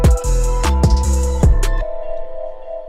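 Short drum beat programmed in FL Studio, heard without a soft clipper: punchy kick and snare hits in a steady pattern with booming low end, stopping after under two seconds as a tonal tail rings out.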